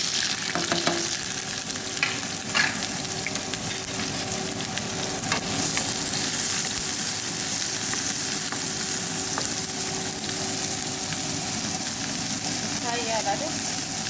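Onions frying in a pan with a steady, continuous sizzle and occasional stirring clinks, close and moderately loud, with a faint voice at times.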